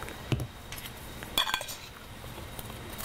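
Potato wedges being tossed with burger and fry seasoning in a bowl give a few sharp clinks and scrapes of utensil against dish, with quiet gaps between the brief clattering bursts.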